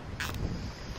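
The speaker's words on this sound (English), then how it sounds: "Well, excuse the wind, it's a windy day." Loud wind buffeting the microphone in a steady roar, with a brief gust burst near the start.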